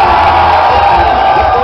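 Dense crowd shouting and cheering at a swingueira party, loud and continuous, with voices whooping over a busy, packed-room din.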